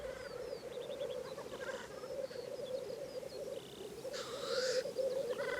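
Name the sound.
black grouse lekking on the moor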